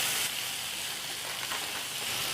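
Vegetables sauté in a hot pan for white sauce pasta, a continuous soft crackling sizzle heard close up, with faint stirring scrapes and no voices.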